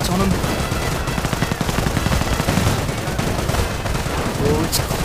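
Assault rifles fire in a strategy video game battle, with dense, rapid bursts of automatic gunfire crackling continuously and overlapping while a voice talks faintly underneath.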